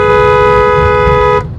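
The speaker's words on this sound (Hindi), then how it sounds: "फिर हमने हॉर्न बजा के धीरे उसको पीछे कर दिया" A single loud, sustained car horn blast sounds close by for over a second, then cuts off abruptly over low road rumble.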